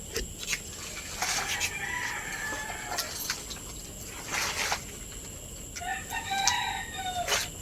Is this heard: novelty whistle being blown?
no